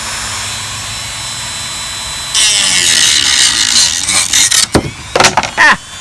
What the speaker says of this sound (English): I know some of you that do wood cutting are probably cringing right now, but because I'm using this Dremel